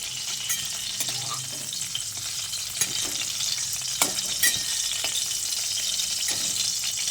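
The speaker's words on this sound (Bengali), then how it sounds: "পটলটাকে আমি এইরকম একটু হালকা করে ভেজে নিয়েছি। এখন এই পটলগুলোকে তেল ছেঁকে তুলে নিচ্ছি" Pointed gourd (potol) sizzles steadily in hot oil for a vegetarian doi potol dish, a continuous close frying hiss with a few soft clinks and stirring sounds and no talking.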